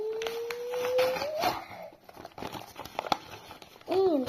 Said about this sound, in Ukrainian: Ось наш пакетик відкриваємо.